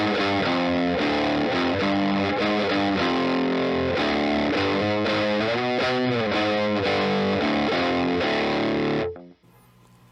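Heavily distorted electric guitar plays a chugging riff that steps outside the key onto a flat five, loud and continuous for about nine seconds before cutting off sharply into near silence.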